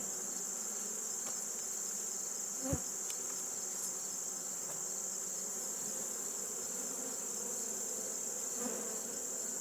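Honeybees hum steadily at an open hive during fall re-queening, a dense, even drone with one brief soft knock partway through.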